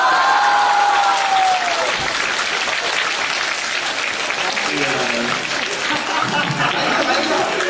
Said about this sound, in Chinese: 作为观众，就用谢幕的掌声和你们说声谢谢吧